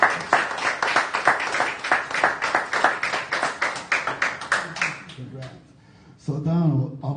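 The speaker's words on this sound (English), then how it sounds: "First of all of you have to give him a big round of applause" A small audience gives rhythmic, close clapping for a newly named NEA Jazz Master at a conversation event. The clapping thins out and stops, and a voice then starts speaking.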